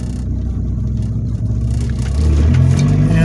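Ford Probe GT with an HX35 turbo accelerating hard on a pull, loud close engine roar rising in pitch as revs climb, growing louder toward the end.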